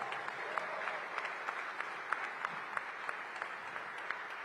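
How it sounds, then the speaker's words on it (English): A crowd claps steadily at an arena groundbreaking ceremony, moderately loud and sustained, with individual sharp claps standing out against the continuous wash of applause. "a round of applause for your Washington Wizards on a game day"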